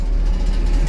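A car engine hums low and steady during a driving lesson as the learner applies throttle, a brief close drone with no talk over it.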